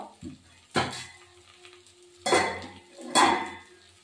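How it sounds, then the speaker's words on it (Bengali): A lid going onto a cooking pot of raw jackfruit and potato curry: three distinct metallic clanks spaced over a few seconds, with faint sizzling beneath and no talking. "এই যে এবার একটু ঢাকা দেবো।"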